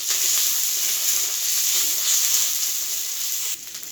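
Ginger and cumin paste fry in a pan for a jackfruit and paneer curry, giving a loud, steady, bright sizzle that holds evenly, then drops sharply near the end.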